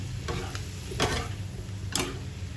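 Shrimp and fresh broccoli being stir-fried with sauce in a pan, with a steady soft sizzle and a few louder stirring scrapes and clatters, close up and with no talking.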